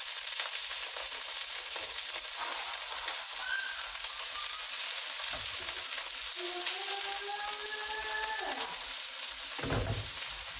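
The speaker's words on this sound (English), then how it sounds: "Stir fry the cabbage and the carrots in canola oil for about 5 minutes" Cabbage and carrots stir-frying in canola oil give a steady, close sizzle and hiss across the whole stretch, with a few brief scrapes and a faint tonal whine in the background partway through.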